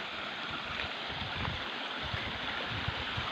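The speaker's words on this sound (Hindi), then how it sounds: "ये चश्मे का पानी, आवाज़ बता रही है, पानी फ्रेश आ रहा है माशाल्लाह" Fresh spring water runs steadily at an outdoor spring in Pakistan, a continuous near rushing and gurgling wash with no voices.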